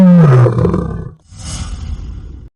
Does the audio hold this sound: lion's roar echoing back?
yes